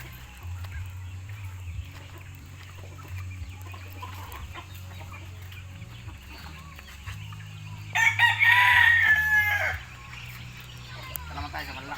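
Chickens and a rooster at a poultry farm: a loud burst of crowing stands out for about two seconds near the end, over a steady low hum and faint background clucking.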